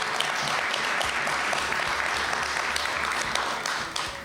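An audience at a talk on resilience and the brain claps steadily in a continuous, dense round of applause that tapers slightly toward the end.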